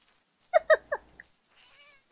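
Cat meowing in a video game, three quick loud meows in a row followed by a short chirp, then quiet.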